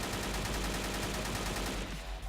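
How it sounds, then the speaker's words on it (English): An AK-47 rifle in a modded ArmA 3 fires a fast, steady string of automatic shots, fairly faint and evenly spaced, then stops near the end, and no voice is heard. "The next one is probably going to be the fan favorite, which is the AK-47. With this alright fire rate and an alright single burst."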